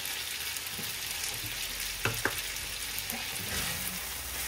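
Cherry tomato pasta cooking in a pan gives a soft, even sizzle, with a couple of brief utensil clicks as it is stirred; fairly quiet and without talk.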